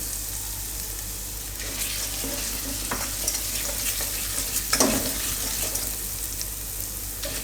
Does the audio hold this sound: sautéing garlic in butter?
yes